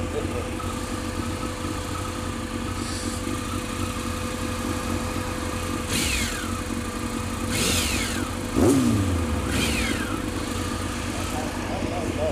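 A 2002 Yamaha Fazer 600 motorcycle rides along with a steady engine drone and a few rising revs, heard from the rider's position under wind noise.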